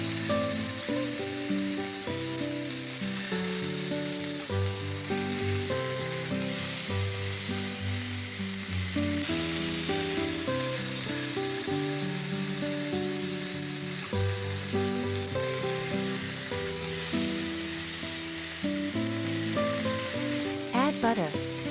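Pork tenderloin sears over high heat in a hot pan, giving a steady, loud sizzle and crackle that runs unbroken throughout with no talking.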